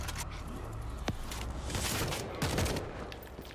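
Gunfire in the World War Z video game: scattered, fairly faint shots and short bursts amid a busy background of game noise.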